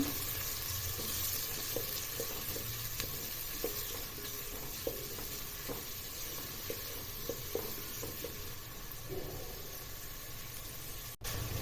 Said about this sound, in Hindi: एक प्याज है बारीक कटिंग करी वाली, ये डाल देंगे। प्याज को अच्छे से भून लेंगे।